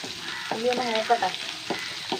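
Onion browns in a sizzling pan with curry leaves, giving a soft, steady crackle broken by a few quick stirring scrapes.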